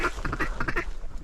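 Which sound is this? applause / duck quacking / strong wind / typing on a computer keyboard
duck quacking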